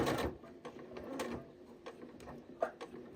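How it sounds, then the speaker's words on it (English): A Janome 8200 QCP sewing machine stitches fabric in short mechanical bursts with a few pauses, a soft whirring and clicking that stays moderately quiet and close, with no talking. "I'm going to take a couple of stitches and then back stitch"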